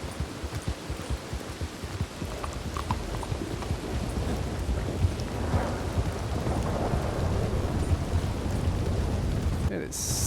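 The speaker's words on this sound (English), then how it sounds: "It is seriously pouring down rain." Heavy rain pours with rolling thunder in the Red Dead Redemption 2 video game, a dense wash of rain over deep rumbles, with horse hoofbeats clopping near the start.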